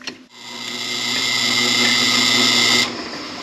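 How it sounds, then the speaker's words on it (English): A power drill whines steadily as it bores about an inch deep into black walnut, running for a few seconds before cutting off abruptly. "I'd like to drill these out about an inch deep."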